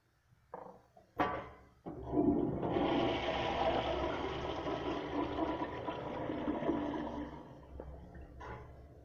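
An antique toilet flushing, starting with a couple of sharp mechanical clunks from the handle, then a strong close rush of water that slowly fades, ending with a small knock.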